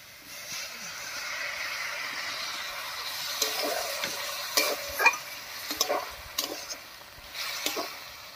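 Bamboo shoots cooking with a ground rice paste, stirred in a pan with a steady soft sizzle and scattered clinks and scrapes from the spoon, close and fairly quiet, no one speaking.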